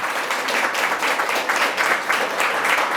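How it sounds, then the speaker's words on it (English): A dinner audience at a Global Dignity dinner gives a round of applause. The clapping is close, full and steady, with gently pulsing swells throughout the three seconds. "Please give them a round of applause as well."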